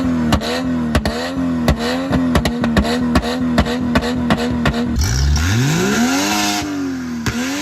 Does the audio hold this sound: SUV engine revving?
yes